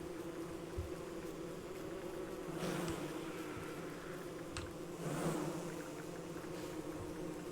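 Bees in the video game Don't Starve drone in a steady, continuous buzz, with a couple of slightly louder swells as one passes close.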